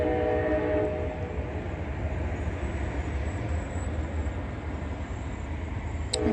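Union Pacific train passing close by, its horn sounding briefly at the start, then a loud, continuous rolling roar of cars and wheels on the rails.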